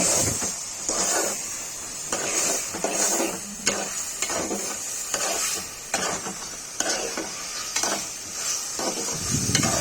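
Cut potatoes are stirred in a frying pan alongside bottle gourd greens and prawns, producing a close, loud sizzle with repeated scraping strokes of the spatula at an irregular pace, and no speech.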